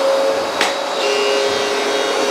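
A Hoover PowerDash Advanced Pet carpet cleaner runs steadily with a loud, continuous motor drone and whine, a brief sharper burst of noise early on, no voices.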